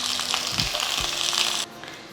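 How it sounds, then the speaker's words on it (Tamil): Cut eggplant pieces hit hot cooking oil, giving a close, bright frying sizzle that holds steady for about a second and a half before dropping to a softer hiss. "இந்த கத்திரிக்காயை இந்த எண்ணெயில் போட்டு வதக்கி எடுத்துக்கலாம்."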